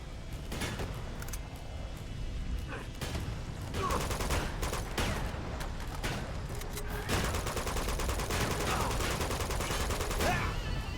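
Dense, continuous gunfire from the video game Uncharted 2: Among Thieves, with shotgun blasts among sustained loud bursts and overlapping shots across the whole stretch, close and harsh.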